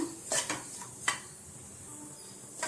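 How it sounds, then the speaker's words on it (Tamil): Semolina dry-roasting in a pan for kesari, with a few sharp scrapes and clinks of a spoon against the metal near the start, then a quiet, steady rustle of stirring with no talk. "இப்போ நம்ம ரவையை நல்லா வறுத்துக்கலாம் ரவை நல்லா வாசனை வர அளவுக்கு வறுத்துக்கணும்"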